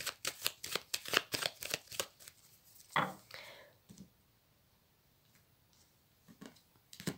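Tarot cards are shuffled in a run of rapid riffling bursts and then cut, close and crisp, fading to a few scattered soft card slaps.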